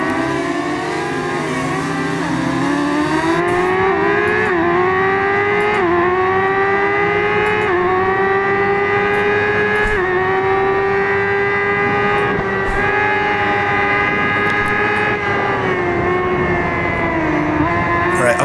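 Racing motorcycles in the video game RIDE 5 during a Le Mans endurance race, a loud continuous engine whine with rising and falling pitch as the throttle opens and eases, holding steady over the whole stretch.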